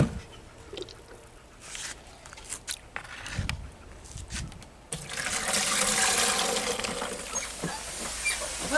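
Liquid pesticide mix poured into a garden sprayer in a cucumber greenhouse, a steady splashing pour of water filling the tank after a stretch of quieter handling and scattered knocks.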